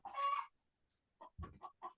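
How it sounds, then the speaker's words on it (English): Chickens cluck just outside an open window, a loud burst of squawking followed after a pause by several short, clipped clucks at close range. "These chickens."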